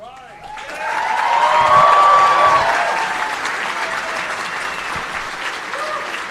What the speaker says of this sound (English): the applause was not in my script, so I was not ready for that